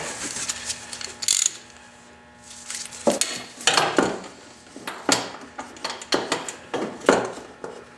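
Socket wrench with a 20mm socket ratcheting on the oil drain plug of a 2006 Eiger, giving a series of short metallic clicking bursts with pauses between them, close and moderately loud.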